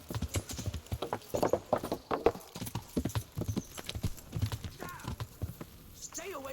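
Steady clip-clop of horse hooves at a trotting rhythm in the video game Kingdom Come, with voices talking over it and a brief whinny-like sound near the end.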